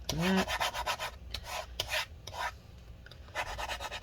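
Adhesive residue being scraped from inside the case of a 13-inch Retina MacBook Pro A1502 (Early 2015) during battery replacement, heard as a series of close, repeated rasping strokes in an uneven rhythm, with no talking.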